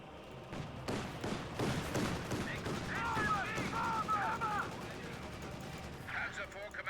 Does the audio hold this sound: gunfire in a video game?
yes